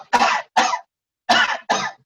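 A lecturer gives four sharp, forceful coughs in two pairs, each a short broadband burst with a pause between the pairs, close and clear with no talking over them.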